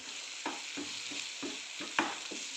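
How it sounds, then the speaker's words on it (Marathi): A spoon repeatedly scrapes and stirs fried tomato masala with fresh coriander in a hot pan, about six rhythmic strokes over a steady close sizzle, with no talking. "कोथिंबीर छान मिक्स करून घ्यायची आहे"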